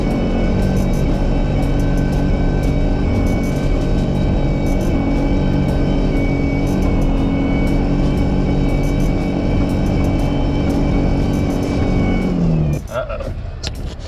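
Supercharged Toyota engine running hard and overheating while off-road wheeling, a loud, steady, close drone that holds for about twelve seconds before abruptly dropping away near the end.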